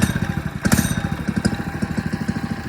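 FRP GMB100 99cc four-stroke mini dirt bike engine idling on choke, a steady close putter of rapid low firing pulses with a brief rev swell, running alone with no talk.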